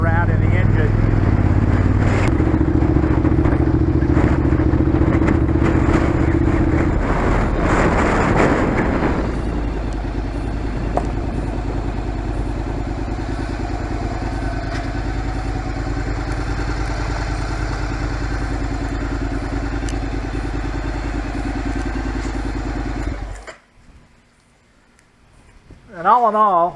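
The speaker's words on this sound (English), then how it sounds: "I put an aftermarket pipe on it because I couldn't stand how quiet it was." A midsize motorcycle fitted with an aftermarket exhaust pipe runs with a loud, steady engine drone and some clatter, with talk over it, before it cuts out abruptly near the end.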